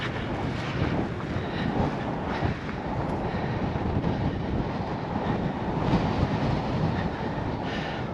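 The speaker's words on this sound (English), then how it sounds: "Wow, it's windy." Strong wind buffets the microphone on the Grand Canyon's North Rim, a loud, continuous low rumble that surges and eases without a break.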